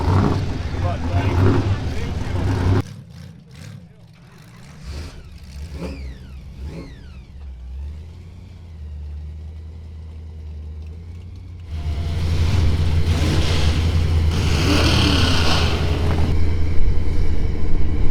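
A car engine revs and winds up with rising and falling pitch, going quiet in the middle before surging into a loud, sustained roar near the end, with voices over the first part.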